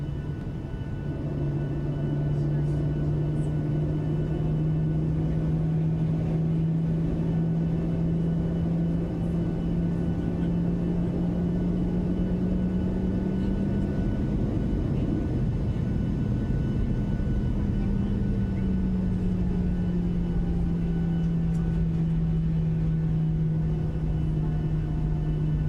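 PMDG 737-700 jet engines spooling up on a LaGuardia runway in a flight simulator, a steady loud low whine and rumble that holds, rises in pitch around the middle, then settles into a sustained roar without any talk.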